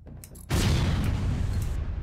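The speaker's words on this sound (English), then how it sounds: "I'm going to shoot the shield with the rockets and then use the heavy laser to shoot the shield as well" In FTL, rockets and a heavy laser fire at an enemy shield: a faint, muffled thump first, then a sudden loud, booming blast with a sustained rumbling roar that carries on for over a second.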